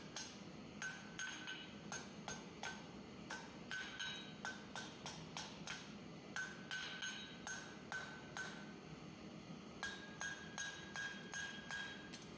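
Hot steel finial for a forged heart hook hammered against the side of an anvil, with roughly two dozen sharp ringing blows in a steady rhythm, grouped in quick bursts with brief pauses, loud and close.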